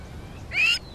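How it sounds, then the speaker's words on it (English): A crowned plover gives one short, shrill alarm call in open country. It is a single bright note that rises and falls, fairly close, over faint low background noise. "Their alarm calls work as a warning system."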